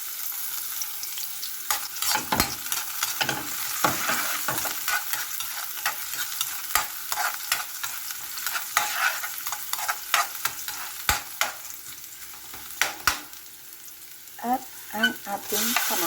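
Garlic and onion sauté in hot oil in a frying pan, a continuous close sizzle with frequent clinks and scrapes of a spatula stirring, and no talk.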